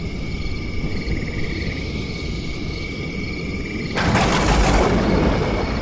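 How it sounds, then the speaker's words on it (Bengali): A sudden loud thunderclap with a lightning strike breaks over a stormy night in a horror story, crashing in after a steady bed of chirping night insects and lingering as a rough rumble. "হঠাৎই আকাশ কেঁপে উঠল বিদ্যুতের চমকে।"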